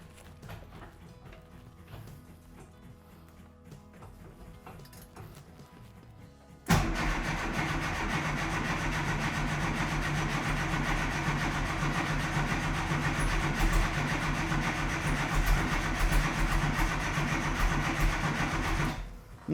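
A classic Mini Cooper S fitted with a race engine cranks over with a faint, quiet whirr. It then suddenly catches and settles into a loud, steady idle.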